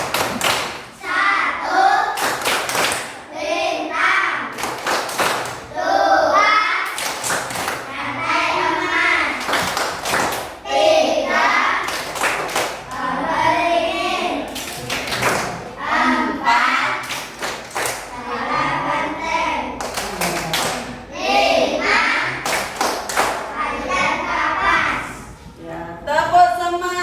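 Children in a classroom perform the tepuk Pancasila rhythmic clapping game, sharp patterned claps in quick bursts interleaved with group chanting and speech throughout, fairly loud and close.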